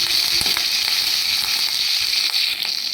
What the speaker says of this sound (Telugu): అలాగే కరివేపాకు ఇవి కూడా వేసి దోరగా వేయించుకోవాలి